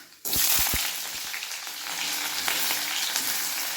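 Onion hitting hot oil with panch phoron, a sudden loud sizzle bursting in after a brief quiet moment, then steady crackling frying with a few stirring knocks.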